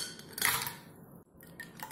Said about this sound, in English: Add in some ice.